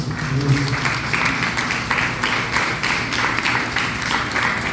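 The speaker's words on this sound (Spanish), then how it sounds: "¿Por qué no damos un aplauso?" Church congregation applauding during a Spanish-language Good Friday service, steady mid-distance clapping from many hands sustained throughout with no voices over it.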